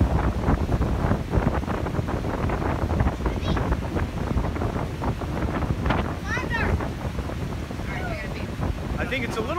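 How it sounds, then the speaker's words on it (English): Strong wind buffets the microphone outdoors in a steady, loud roar that runs the whole way through, with a faint voice partly buried beneath it. "it's just too windy"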